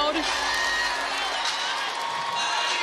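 Crowd noise in the arena at a 2024 NCAA women's basketball second-round game between USC and Kansas, a steady broadband roar of cheering and whoops that holds loud for the whole stretch.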